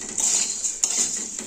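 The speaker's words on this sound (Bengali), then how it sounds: "তো এবার ভালো করে নেড়ে নেব। মুড়িটা কড়মড়ে হচ্ছে" Puffed rice (muri) being stirred and dry-roasted in a frying pan gives a steady, close crackly rustle of light grains scraping and tumbling against the metal, with small clinks as the stirring goes on.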